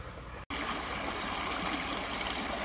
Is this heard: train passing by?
no